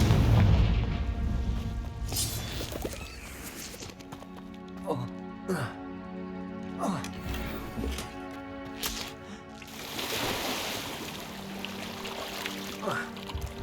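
In Hogwarts Legacy, Confringo blasting spells set off several booming explosions with rumbling debris, spaced across the scene over continuous game music, and a voice casts spells in between.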